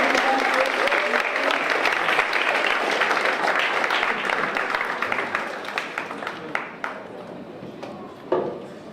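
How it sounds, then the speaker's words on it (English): An audience at an under-25 film event applauds for John, a dense burst of clapping that thins out into scattered individual claps toward the end. "Another round of applause for John,"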